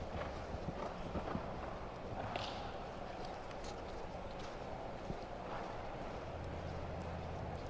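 Hooves clip-clop on the arena surface during a show jumping round at a classic in Las Vegas, rhythmic and moderately distant, with faint crowd and ambient noise around them.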